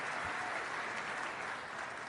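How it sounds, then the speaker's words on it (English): A rally audience claps steadily for a couple of seconds, a dense, even wash of hand claps filling the space with no voices on top. "Oh, now they're clapping"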